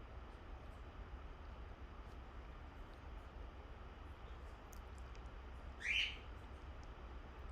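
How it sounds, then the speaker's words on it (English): A single faint bird chirp rises briefly over a steady low rumble and hiss, with a few even fainter calls elsewhere. "As usual, you hear the birds chirping in the background."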